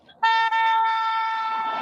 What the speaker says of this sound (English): You're honking.